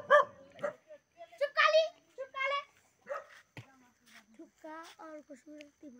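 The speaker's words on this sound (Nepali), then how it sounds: "यहाँ चाहिँ कुकुरहरू छ" Dogs bark and yip in short, irregular bursts close by, with a whimper among them, while people talk over and between the barks.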